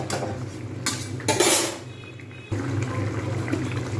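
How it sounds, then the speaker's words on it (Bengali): Spice masala of coriander, cumin, bay leaf, pepper and clove stirred in a pan for a rohu fish curry with beans and potato: metal utensil scrapes and clanks over a low simmer, with one louder rushing burst. "জাস্ট আমি নাড়িয়ে নিলাম"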